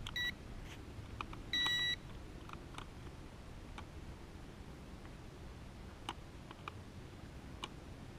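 A lost toy drone, a DJI Spark clone, gives faint, distant electronic beeps, two short bursts of tones, over steady outdoor background noise with scattered light ticks.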